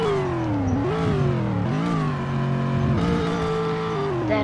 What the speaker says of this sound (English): Now let's give it a rev.